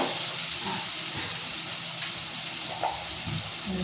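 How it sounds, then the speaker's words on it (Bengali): A home-cooked curry of tomato, chili, cumin and ginger fries in a pan, giving a steady, moderately quiet sizzle and hiss with a few faint stirring clinks. "একটু লাল করে ভাজা হোক, তাহলে তরকারিটা ভালো হবে।"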